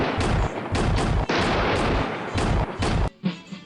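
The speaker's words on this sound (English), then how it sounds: "The report of rifled muskets reverberated under the tree canopy," Rifled musket volleys in a Civil War battle game set under a wooded tree canopy at Antietam's Burnside's Bridge, a loud, dense succession of overlapping gunshots and booms for about three seconds before cutting to a quieter echo.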